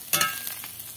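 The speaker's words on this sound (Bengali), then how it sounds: "এবার এটা ভালো করে ভেজে নেব।" Crushed garlic and ginger fry in hot oil, a close, dense broadband sizzle with a sharp burst at the start and a few light stirring scrapes, steady and loud with no talking.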